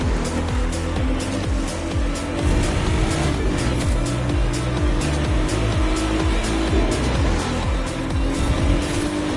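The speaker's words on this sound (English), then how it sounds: "Those engines are going to make for a loud wake-up call" Loud racing car engines in the video game The Crew 2 roar continuously, revving and shifting pitch up and down, with tires squealing as the cars tear along close by on rough asphalt in deep woods.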